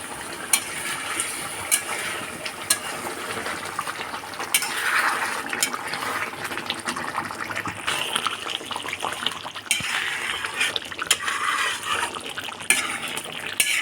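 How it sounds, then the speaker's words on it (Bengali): A spoon stirs chicken curry with roasted garam masala in a pan, giving wet scraping and clinks over a low bubbling hiss, moderately loud and continuous. "নেড়ে চেড়ে দিচ্ছি"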